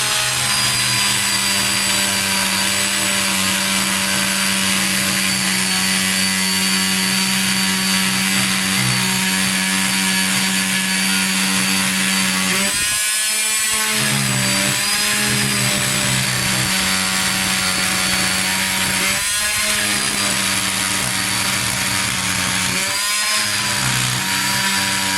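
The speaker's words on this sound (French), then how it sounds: "donc un petit peu de scie." A saw cuts steadily through Fermacell board, a long continuous buzzing hum with a few brief dips and pauses as the blade shifts along the cut.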